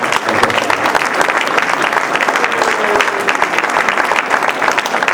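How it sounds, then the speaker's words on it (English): Dense, loud applause from a school annual-day audience for participants at a prize distribution, steady clapping filling the full stretch with faint crowd murmur beneath. "I think I would like to have a round of applause for all the participants."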